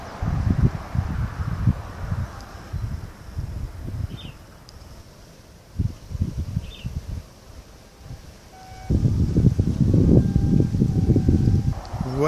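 Wind gusts blow at the east port of Réunion Island, buffeting the microphone in loud rumbling bursts that come and go, with calmer stretches between them.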